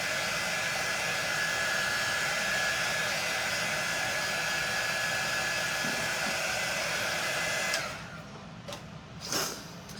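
A hair dryer blows steadily and loudly over a botanical chalk drawing, a constant whooshing roar that cuts off near the end, leaving a few soft bumps and handling noises.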